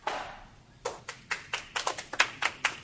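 Clapping at a full board meeting: after a quiet start, a run of about ten sharp, evenly spaced claps, fairly close and moderately loud, with no talk over them.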